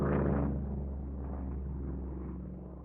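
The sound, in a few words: Coast Guard Jayhawk helicopter flying by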